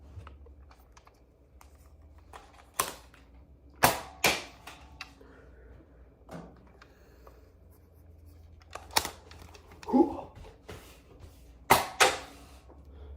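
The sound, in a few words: Nerf Elite 2.0 Volt SD-1 blaster firing darts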